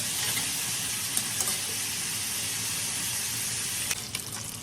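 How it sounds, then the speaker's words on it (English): Steady, close sizzling hiss of food frying in a pan, with occasional faint pops and crackles throughout. "I love to hear that sizzling in the pan."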